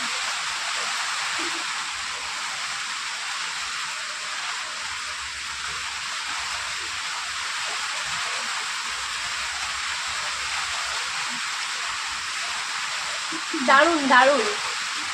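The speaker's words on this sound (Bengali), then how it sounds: "তারপর এবার বৃষ্টির পরিমাণটা একটু বেশি আছে।" Heavy rain falls as a steady, dense hiss that continues unbroken throughout, with a short burst of speech near the end.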